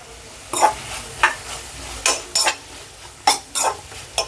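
Tomato poori curry with turmeric is stirred in a pan. About eight distinct, fairly loud scraping strokes come in an uneven rhythm over a faint sizzle.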